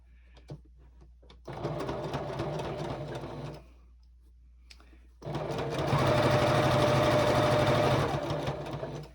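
A sewing machine stitches binding onto a gingerbread star table topper in two steady runs, a short burst and then a longer, louder one, a close whirring drone with a brief pause and faint handling between.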